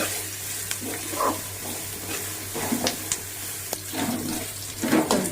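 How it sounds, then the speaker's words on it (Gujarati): Chillies and potatoes frying in hot oil while being stirred in a pan, a soft steady sizzle broken by scraping stir strokes, close and moderately quiet. "તો એને હલાવી દઉં મરચાં થોડાક શેકાઈ જાય એટલે નાખી દઉં બટેટા"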